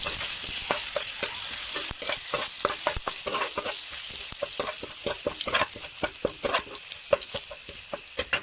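Constant crackling sizzle of garlic and bay leaves frying in oil with a busy, irregular series of spatula scrapes and taps against the pan throughout.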